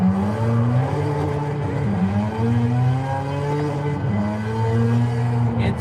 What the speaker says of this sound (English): hear that thing coming up behind me. Sounds like an F1 car.